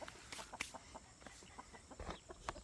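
Chickens clucking close by on a farm at feeding time, soft irregular clucks and brief calls scattered across a couple of seconds, fairly quiet with no talk.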